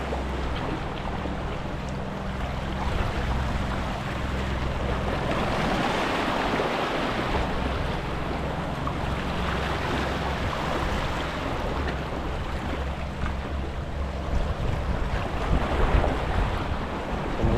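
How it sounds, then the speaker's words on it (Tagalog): A boat passes at a distance out at sea, heard as a steady low engine drone under continuous waves, surf and wind buffeting the microphone, with no talk. "May dumang bangka mga idol."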